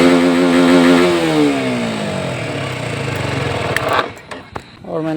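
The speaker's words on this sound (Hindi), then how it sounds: "और एक सेल्फ में स्टार्ट करके दिखाएंगे। चलिए देखा, ये है भाई KTM" A KTM motorcycle engine is electric-started and revved: a loud, close mechanical roar that climbs and falls in pitch, then drops to a rough idle with a few sharp bursts near the end.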